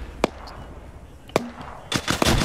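Mortar artillery explosions in a video game: several sharp blasts, one early, one in the middle, then a rapid cluster of louder bangs near the end over a low rumbling background.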